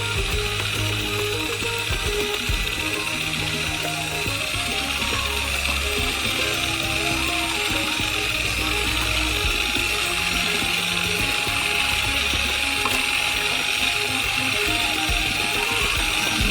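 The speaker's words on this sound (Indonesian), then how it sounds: "sambil mencampurnya dengan mixer" An electric mixer whirs steadily through an ice cream mixture for a giant Snickers ice cream, a continuous mechanical drone with rattling texture that holds loud and unbroken throughout.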